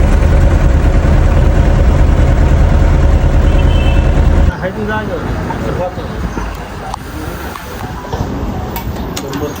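A tractor engine runs nearby in a loud, steady diesel drone with a heavy low rumble, then drops to a quieter idle with clanks and voices talking over it.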